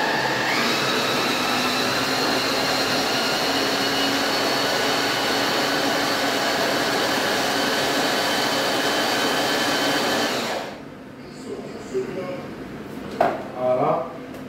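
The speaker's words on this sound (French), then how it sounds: "Maintenant on va mixer tout ça." A blender mixing milk-soaked rusks with garlic and parsley, running as a loud steady whir for about ten seconds before switching off, followed by a few faint kitchen clatters.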